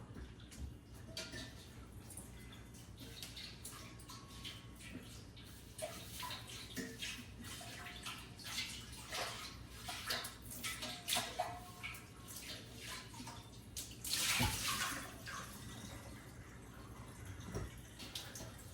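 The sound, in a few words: rinsing a pan under cold running tap water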